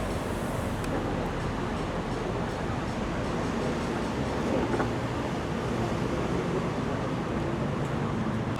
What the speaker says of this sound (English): Well, because the train's just coming in.